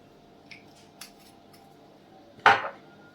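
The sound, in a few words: spoon adding mustard and soy sauce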